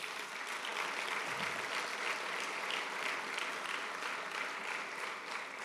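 Steady applause fills a church sanctuary as the congregation claps for God, a dense, even wash of clapping that holds at constant loudness for nearly six seconds with no speech over it.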